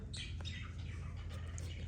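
Lovebirds give a few high, sharp chirps and short calls over a steady low background hum, the birds sounding fairly close but not loud.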